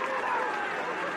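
Crowd at a Super 8 First XV schoolboy rugby match between Tauranga Boys' College and Rotorua Boys' High, a steady broad roar of cheering that holds at an even level throughout.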